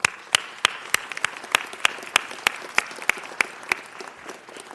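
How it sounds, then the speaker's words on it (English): Scattered applause from a small city council meeting audience, sharp individual claps spaced irregularly over a steady low murmur, fairly quiet and nearby, with no talking. "join me in giving these individuals an incredible round of applause"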